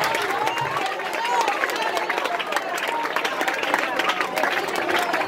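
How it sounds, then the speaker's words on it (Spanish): A church congregation at an evangelical service applauding and cheering together, a dense sustained wash of clapping mixed with raised voices and crowd babble. "Alguien aplauda al Dios que yo predico en esta noche."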